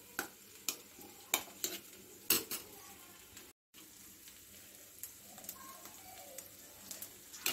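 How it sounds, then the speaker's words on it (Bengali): Spices stirred and sautéed in melting ghee in a pot for khichuri: sharp metal spoon scrapes and clinks at an irregular pace over a soft background sizzle, with one brief dropout. "আমি মশলার সঙ্গে ঘিটা কষিয়ে নিচ্ছি, ঘিয়ের মধ্যে মশলাটাকে"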